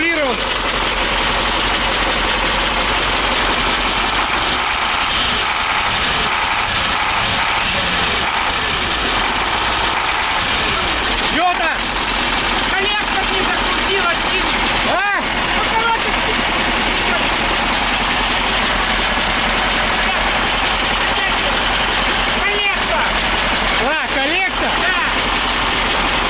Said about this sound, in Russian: Мотор весь трясется что-то зачем-то, непонятно.